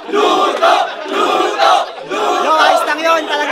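A rap battle crowd roars and cheers in loud, surging waves, voices shouting over each other close by with no single speaker standing out.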